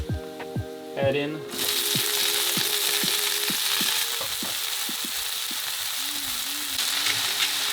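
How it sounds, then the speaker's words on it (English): Garlic hitting hot olive oil in a pan, a sudden loud sizzle that holds steady with stirring clicks, after a brief spoken phrase. "I'm just gonna let the garlic get a little bit crispy."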